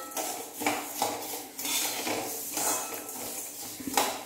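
Spices for sambar powder are stirred in a hot pan over a high flame, with repeated metallic scrapes and clinks of a utensil against the pan in an irregular rhythm. The sound is close, and no one talks.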